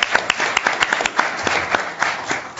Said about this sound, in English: I just want a round of applause for our amazing students